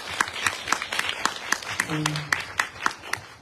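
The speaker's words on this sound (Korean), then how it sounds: "저희 격려의 박수 한번" Applause of encouragement from the audience at a Seoul disability rights film festival screening event, heard as distinct spaced claps in a steady rhythm, with a voice speaking briefly over them.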